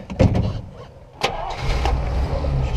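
A 1947 Chrysler New Yorker barn find being started: a couple of starter clicks and cranks, then the engine catches and settles into a steady, close, rumbling idle.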